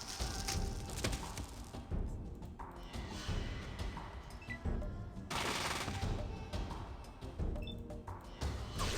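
Grease gun submachine gun fire in Fallout 2, dense rapid bursts of gunshots that run almost continuously at close range with brief dips between volleys.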